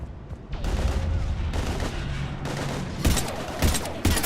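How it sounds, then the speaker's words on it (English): Combat gunfire in the video game Mass Effect 3: sustained bursts of rapid shots and heavy booms, loud and dense, with sharper cracks growing toward the end. "We're taking heavy fire."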